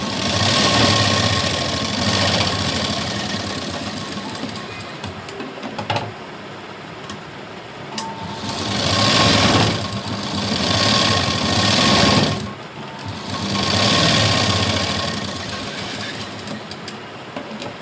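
A sewing machine runs a double line of stitching along a blouse front, whirring steadily and rhythmically up close, with the motor speeding up and slowing in several surges and no talking.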